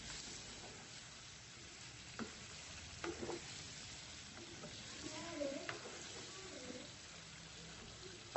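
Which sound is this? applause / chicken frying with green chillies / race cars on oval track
chicken frying with green chillies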